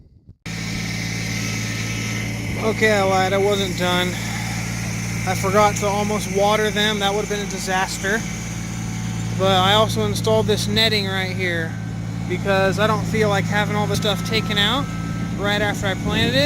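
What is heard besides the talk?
tractor engine running nearby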